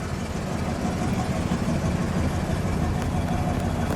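A 1961 DeSoto with a 361 V8 engine idling steadily, a continuous low rumble close to the microphone with no clear changes in speed throughout.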